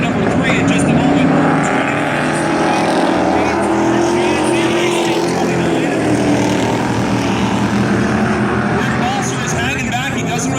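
Modified-class race cars roar around Valley Raceway during a 12-lap feature, a continuous loud blend of engines and revving close by, with an announcer talking over the noise throughout.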